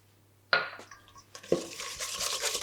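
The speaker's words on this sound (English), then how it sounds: "Whisk the two together." Creme fraiche and cream cheese are whisked in a bowl, starting with a couple of clinks against the bowl, then settling into a steady, close, fast scratchy whisking that grows denser.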